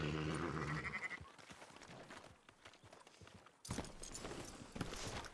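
Sheep bleat amid hoof clatter and movement in Red Dead Redemption 2, several short nasal bleats early on followed by a busier, noisier stretch of ranch activity at moderate volume.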